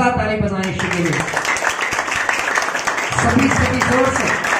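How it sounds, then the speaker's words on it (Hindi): Church congregation clapping for Jesus during a Hindi sermon, a burst of collective applause between stretches of a speaker's amplified voice, with the clapping swelling in the middle and talk resuming over it. "आइए एक जिंदा ताली बजाएं यीशु के लिए"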